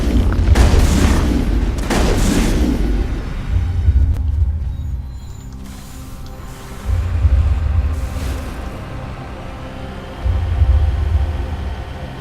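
Shotgun blasts in the Mass Effect video game, heavy booming shots in an uneven series with low rumbling impacts and game sounds between them, and almost no talk.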